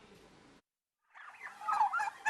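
Turkeys raised on a farm in Narsingdi gobble in a short burst after a brief silence, the calls growing louder and more crowded toward the end, fairly close.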